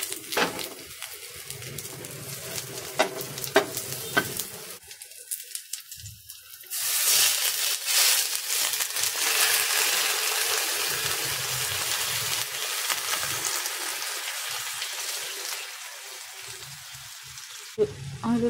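Corned beef and cabbage sautéing in a pan, a steady broadband sizzle rising sharply after a quieter start and holding loud and even, with faint clatter early on and a brief knock near the end.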